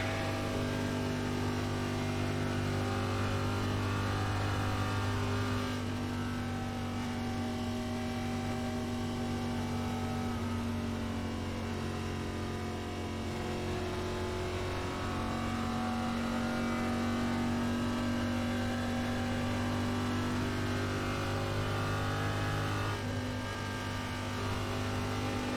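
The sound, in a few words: race car engine in iRacing NASCAR video game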